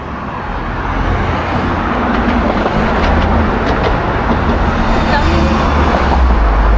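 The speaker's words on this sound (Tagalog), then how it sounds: "Ang daming sasakyan." Busy traffic flows along a seaside road, a loud continuous roar of many passing vehicles with swells as cars go by close, no talk.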